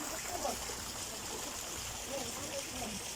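Water from a resort pool fountain splashes and trickles steadily beside an infinity pool, a continuous rushing wash with faint voices in the background.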